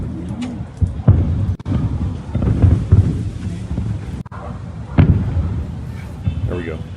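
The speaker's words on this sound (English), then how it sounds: "So watch these layered explosions." Firework shells bursting in rapid layered succession, several booms stacked on top of each other at a distance, rumbling continuously, with a voice talking over them.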